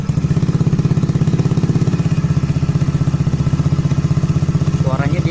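A 2018 Honda Scoopy eSP scooter fitted with a non-embossed Tsugigi exhaust idles up close with a steady, even, throbbing putter. A voice briefly joins near the end.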